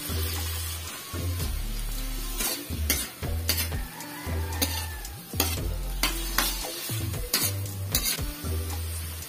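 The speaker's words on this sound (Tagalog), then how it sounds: "Isayin natin ng 2 to 3 minutes para lumabas yung katas ng ating pusit." Squid being sautéed in a pot for adobong pusit, a steady sizzle under repeated scraping stirs of a utensil against the pot, close and fairly loud.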